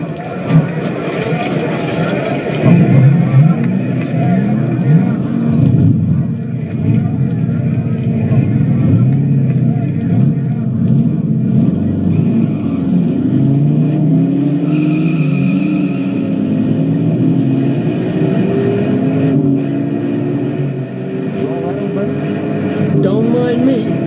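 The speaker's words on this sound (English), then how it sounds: "Gentlemen, start your engines." Race car engines start up and rev on a Walt Disney Love Bug record, a loud continuous rumbling roar that rises and surges in pitch throughout, with voices talking over the engine noise.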